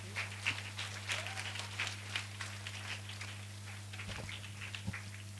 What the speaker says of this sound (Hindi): ताली बजाकर प्रभु को स्तुति करेंगे।